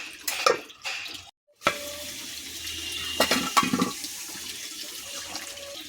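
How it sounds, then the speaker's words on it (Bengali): Water poured into a pot of taro, potato and shrimp curry, a gushing splash that stops briefly, then resumes with running water and a few clinks of a pot, no voices. "এবারে জল দেবো।"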